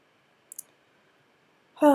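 A single computer mouse click on a Create Citation button, a quick close double-tick in an otherwise quiet room, followed shortly by a brief voice at the end.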